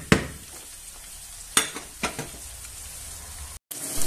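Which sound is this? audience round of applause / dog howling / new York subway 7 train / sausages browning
sausages browning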